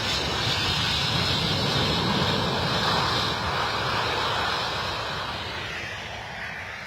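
A jet airliner lands at London Stansted, arriving from Shannon, with a loud, steady broadband roar that fills the whole stretch and fades slowly toward the end, and no voices.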